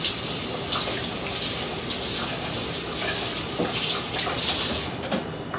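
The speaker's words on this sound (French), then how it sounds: "Je veux rajouter de l'eau ici pour enlever tout ce qui se trouve ici." Water runs steadily from a tap into a pot of soup being made for dappa and foléré, a continuous close, loud rushing splash with slight shifts in tone, and no talk.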